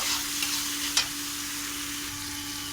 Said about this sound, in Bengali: সামান্য একটু লবণ দেব আর দেবো হলুদ গুঁড়ো দিয়ে এটাকে একটু হালকা এক মিনিটের মতন ভেজে নেব